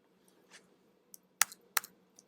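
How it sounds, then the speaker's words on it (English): Computer keyboard keys are pressed during a drawing-software session, a few sparse, quiet clicks with two sharper keystrokes close together and a faint tap at the end. "I hit escape to end it"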